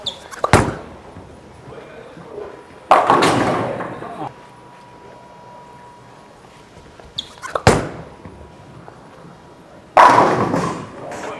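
A bowling ball is thrown down the lane several times, each throw landing with a heavy thud and then rolling.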